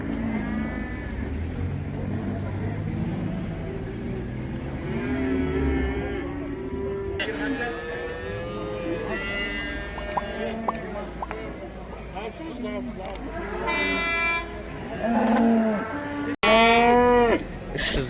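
Cattle low and moo at a busy livestock bazaar in Taraz, several animals calling near and far while people talk and chatter in the background and a few sharp knocks cut through.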